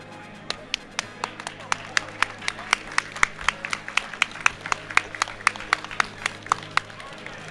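Scattered claps from a tournament audience at a Super Smash Bros. Brawl match between Nairo and Rain at Apex 2013, steady and sparse rather than a full ovation, with murmuring crowd noise underneath.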